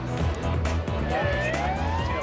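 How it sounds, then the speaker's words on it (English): Ten-minute warning siren sounding before a building implosion, a rising and falling wail heard at a distance over a noisy crowd murmur. "That's the 10-minute siren. We're now into the 10-minute warning."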